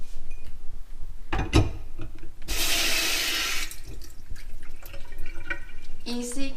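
Water from the tap runs briefly into a small wet bar sink, a burst of splashing flow with drips and clinks around it, while a person talks over it.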